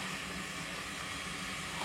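Eggs frying on a very hot pan, a steady, faint, close sizzling hiss running unbroken with no distinct pops.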